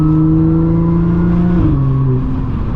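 Audi S4 B8.5 exhaust running on test pipes, a loud, close, steady engine drone with clear low harmonics that step down in pitch partway through as the revs drop.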